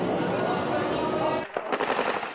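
Gunfire in Syria, a dense sustained burst of automatic shots rattling continuously, then breaking into scattered separate cracks, loud and harsh under a reporter's voice.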